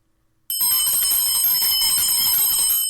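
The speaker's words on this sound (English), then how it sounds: "every time you hear the bell" A bright metallic bell rings suddenly after a short silence, then sustains a shimmering, steady tone, loud and close, with no talk.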